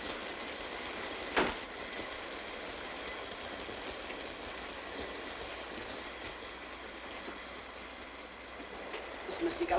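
A train runs along the rails with a steady rumbling roll and faint clatter, moderately loud and continuous, with one sharp knock early on.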